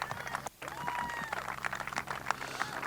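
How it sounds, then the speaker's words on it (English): A crowd at a high school football game, PRHS Bobcats versus Sanborn Indians, applauds in a brief patter of clapping from the stands, with a voice talking over it. "Nice round of applause."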